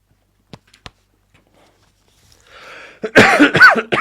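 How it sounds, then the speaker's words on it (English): A few short, sharp coughs spaced apart, then a stretch of louder, rougher coughing and throat noise near the end, close to the mic. "Excuse the coughing."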